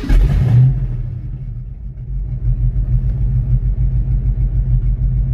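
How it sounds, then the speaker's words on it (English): 1989 Ford Mustang GT engine running after years left in storage, a loud close low rumble settling into a steady, slightly lumpy idle after an initial rev. "it's running a lot better since I plugged that off. It wouldn't idle before."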